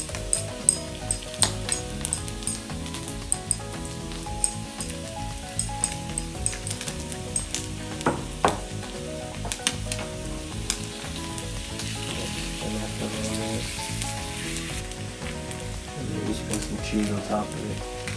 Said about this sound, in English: I'm gonna go ahead and add a shell, taco shell, on here. A little oil on that.